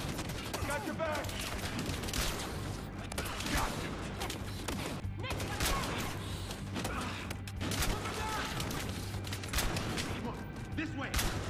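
Gunfire in Battlefield Hardline on Xbox, dense bursts of shots and crashes packed together throughout, with voices calling out amid the steady barrage.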